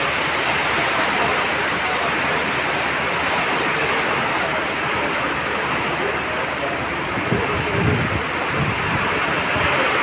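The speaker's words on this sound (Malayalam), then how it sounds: "ധാരാള കാറ്റും മഴയും തന്നെ" Strong wind and rain roar in a steady, loud, unbroken rush, with a brief low rumble near the end.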